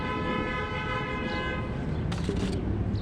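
A car horn honks in the distance on a busy street, sounding over steady traffic noise for about a second in brief toots.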